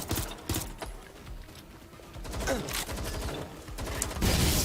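Gunfire in Watch Dogs Legion, with repeated loud, sharp shots in irregular bursts over ongoing combat noise, and no talk.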